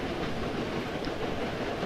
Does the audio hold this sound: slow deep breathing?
no